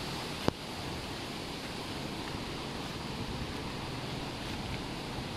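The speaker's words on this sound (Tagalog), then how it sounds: "malakas yung hangin dito sa babaw ng bukid" Constant broadband roar of strong wind buffeting the microphone on top of a mountain during a typhoon, with one brief sharp click near the start and no speech.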